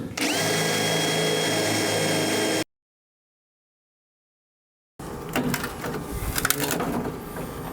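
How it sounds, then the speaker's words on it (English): A power drill whines steadily into metal, drilling out plug welds on a 1957 Chevrolet Bel Air, cuts out briefly, then resumes with rougher grinding and rattling as the bit bites through. "We're going to drill them out."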